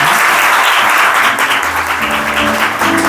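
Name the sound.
applause at a school graduation ceremony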